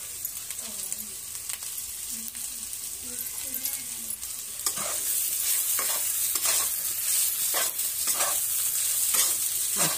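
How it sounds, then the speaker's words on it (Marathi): Potato chutney sabzi in Gujarati style, sizzling and frying in a pan while a spoon stirs it, with steady crackle that grows louder midway and scraping strokes, close up; faint speech is heard underneath early on. "अशा प्रकारे व्यवस्थित असं ह्याला मिक्स करून घेऊ आपण।"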